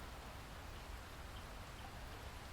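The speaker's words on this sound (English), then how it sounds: "Rain." Steady rain falls in a dark city alley, a soft, even hiss of drops that stays constant and low in level with no voices over it.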